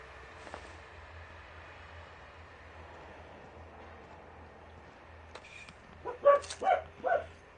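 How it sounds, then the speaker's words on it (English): Dogs bark in The Outer Worlds, several quick yelps and barks bunched near the end after a long stretch of low droning background hum. "Oh, dogs are going ape poop."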